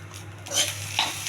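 A spoon stirs millet upma with a dried red chilli in a pan, giving a couple of short scraping strokes and soft clinks over a low, quiet kitchen background.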